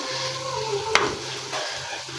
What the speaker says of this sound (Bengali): আজকে পেঁয়াজ লঙ্কা দিয়ে মাছ ভাজা হচ্ছে।